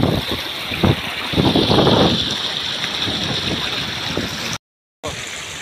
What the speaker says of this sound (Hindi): कितना पानी जा रहा है इधर से